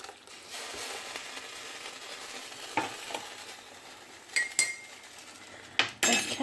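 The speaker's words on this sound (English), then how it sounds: "I'm cooking them in this pan with a little bit of the water from the potatoes" Chopped mushrooms cook in a pan with a little potato water and vegetable stock, giving a soft, quiet sizzle broken by a few sharp clinks and scrapes of a utensil stirring.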